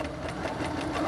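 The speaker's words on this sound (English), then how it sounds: "I'm going to continue to sew along the solid line of my pillow." Sewing machine stitching a seam along a pillow, a fast, steady mechanical whir with evenly repeating needle clatter, close and continuous, with no talking.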